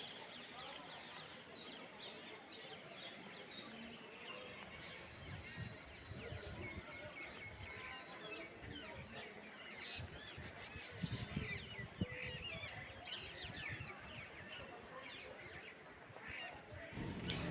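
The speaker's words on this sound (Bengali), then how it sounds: "এখানে বেশ পাখির ডাকও বেশ শোনা যাচ্ছে" Birds call and chirp faintly over a soft outdoor background at Agra Fort, with scattered bursts of calls throughout.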